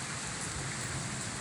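A steady morning downpour hisses evenly on outdoor surfaces. It stays dense and constant through the short stretch, with no voices.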